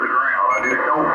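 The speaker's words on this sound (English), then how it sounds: "I can still hear a little bit of the hash and static." Radio hiss and static coming through a BHI NEDSP1061-KBD DSP noise-reduction filter set to level one, a steady broadband rush that fills the whole moment.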